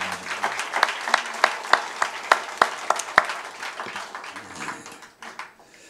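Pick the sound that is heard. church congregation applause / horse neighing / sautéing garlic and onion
church congregation applause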